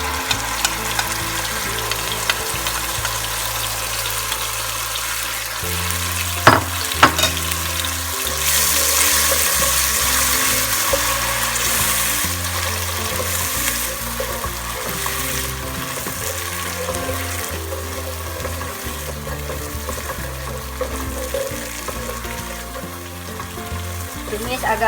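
Ground spice paste sautéing in a pan for a meatball curry, a continuous sizzle that swells louder partway through, with a couple of sharp knocks and scraping stirs, no talking.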